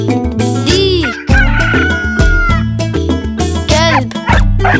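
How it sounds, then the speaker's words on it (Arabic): Cartoonish rooster crows in an Arabic children's song about a farm with hens and a rooster, several stylized cock-a-doodle-doo calls rising and falling over bouncy synthesized music, loud and upfront, likely voiced or synthesized rather than a real bird. "ديك"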